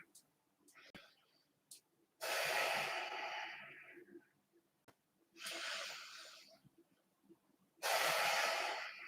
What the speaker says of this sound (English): take a couple more breaths here